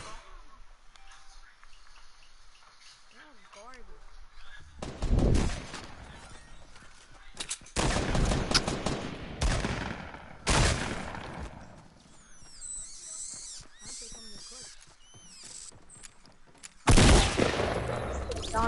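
Gunfire in the Fortnite video game, with hunting rifles in use: several loud bursts and rapid volleys of shots break out between quieter stretches of game sound, with the heaviest firing near the end.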